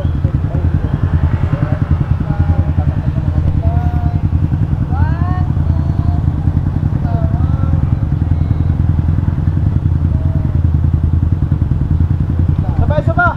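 A motorcycle engine idles with a steady low throbbing rumble throughout, close by outdoors at Sabang, Baler, Aurora, while people talk and call out over it.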